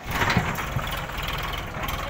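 A tractor engine runs on a farm field, a steady rumbling drone without pauses, fairly close and alone without speech.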